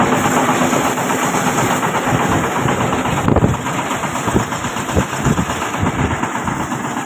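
A small tractor engine idles close by, a loud, steady low rumble with slight vibration that stays constant for the whole clip.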